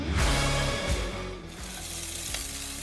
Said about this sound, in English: So I'm starting to fry up all these veggies